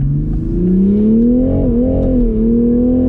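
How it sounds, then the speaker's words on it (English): Toyota Supra engine revving hard under throttle, a loud, steady rising drone with a brief dip midway before climbing again, close and continuous with no talking. "I step on the gas a little bit here and the rear end came off loose again"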